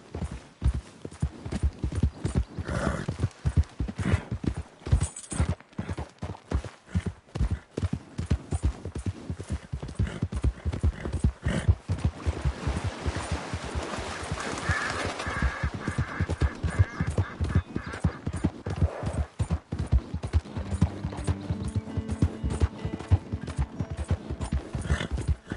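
Rhythmic horse hooves gallop steadily across the ground in the Red Dead Redemption 2 video game, a loud and continuous run of thuds with faint in-game ambience around them.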